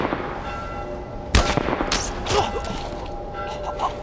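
Bow shots in The Last of Us Part 1: a few sharp, brief releases and impacts, spaced irregularly over a quiet game ambience, close and moderately loud.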